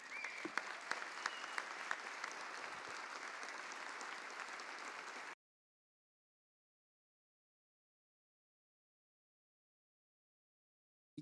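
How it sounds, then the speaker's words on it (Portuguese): An audience at a debate on drugs and security bursts into sustained applause, a dense wash of clapping that runs steadily for several seconds and then cuts off abruptly into silence. "Que essas palmas sejam para mim, para toda a minha ancestralidade"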